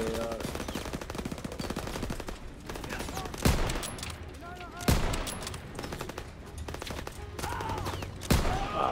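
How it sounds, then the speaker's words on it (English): Gunfire in a World War II combat video game, Call of Duty: WWII, with a steady stream of rapid automatic shots and several louder, sharper blasts standing out against a busy battle background. "I still hear gunshots"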